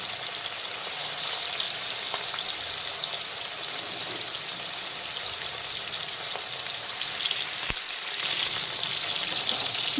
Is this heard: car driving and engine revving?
no